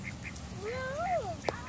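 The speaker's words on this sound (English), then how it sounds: "we want to feed the ducks" Ducks quack in short bursts while being fed bread outdoors. A few rising and falling calls come up close, with faint voices in the background.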